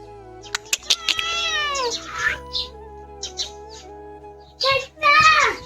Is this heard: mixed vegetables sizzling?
no